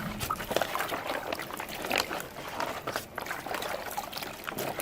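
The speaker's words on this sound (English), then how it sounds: "all you do is go down and fill it with water" Pond water trickles and gurgles steadily into a water filter bottle held down in a shallow pond outdoors, a close, continuous pouring sound with small splashes.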